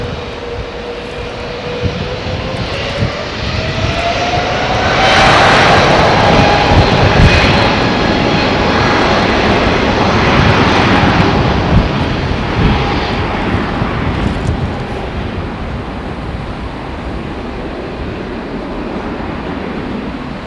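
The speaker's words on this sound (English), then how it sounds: "A lot of Cathay Pacific jets were grounded here. But now they're off again." A Cathay Pacific jet airliner roars through its takeoff in Taipei, engine noise building to a loud peak at mid-clip with a rising whine, then holding as a steady broad rumble.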